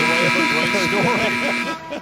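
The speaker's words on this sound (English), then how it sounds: "The final buzzer" A loud, sustained final buzzer tone at an NBA game, Clippers vs Timberwolves, holds steady for nearly two seconds over a noisy crowd roar, then cuts off as the crowd noise continues.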